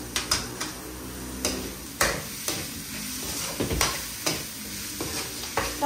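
Onions sautéed in a pan for a goat-intestine curry, with a steady close sizzle broken by repeated sharp scrapes and clicks of a spatula stirring against the metal.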